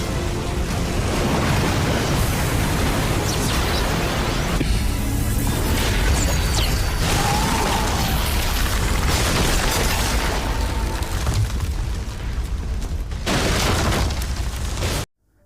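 A game explosion in World of Immortals: a dense, sustained roar of rumbling blasts and crashing debris, loud and continuous, with bursts layered over a deep low-end boom that cuts off abruptly.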